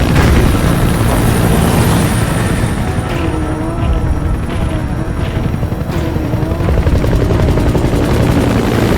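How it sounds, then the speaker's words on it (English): Support helicopter from the video game Metal Gear Solid V, a loud steady rotor thump and turbine whine holding close and continuous throughout. "Support helicopter requested."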